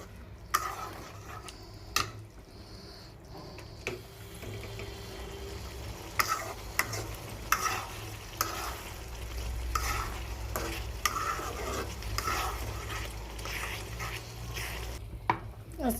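Marinated chicken for biryani fries in a wok and is stirred. A quiet, continuous sizzle runs under repeated scraping and clanking strokes of a spatula against the metal.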